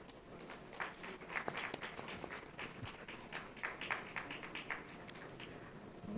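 An audience claps at a live education event, a steady patter of many hands filling the room at moderate volume with no voices over it.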